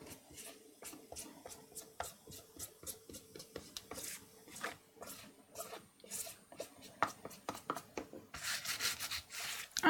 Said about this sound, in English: I like to rub an eraser over it.